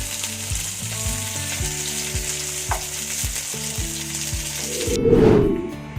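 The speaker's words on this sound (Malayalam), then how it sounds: "ജസ്റ്റ് ഒന്ന് ഷാഡോ ഫ്രൈ ചെയ്താൽ മതി അധികം നേരമൊന്നും ഫ്രൈ ചെയ്യണ്ട" Paneer shallow frying in a pan gives a steady, close sizzle throughout, with a louder burst of spitting toward the end as the pieces are turned.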